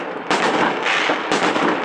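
New Year's Eve fireworks burst over Northern Saltivka in Kharkiv in 2018, with two loud, close explosions about a second apart and a dense crackling roar between them.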